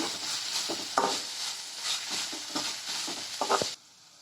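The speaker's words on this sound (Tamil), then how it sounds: "இதை நல்லா வதக்கிக்கோங்க." Soft sizzling as vegetables with turmeric are sautéed in a pan for semiya upma, with intermittent scrapes and clinks of a spoon stirring, fairly quiet, then it stops abruptly.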